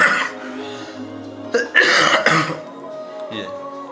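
A person with a bad illness coughs and clears their throat in a few rough bursts around the middle, near and fairly loud, with quieter breathy sounds before and after.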